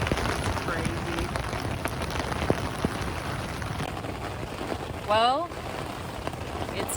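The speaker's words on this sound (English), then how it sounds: "the rain has not let up. In fact, it has gotten, I think, worse." Steady rain that has not let up falls through darkness along the Lost Coast, a dense wash of drops on surfaces beneath a single brief spoken word and a short warbling chirp near the end.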